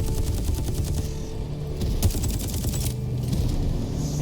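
Rapid automatic gunfire from the Exoborne video game, a dense continuous burst of rattling shots with sharp cracks layered over a loud, steady background of game noise, no talking.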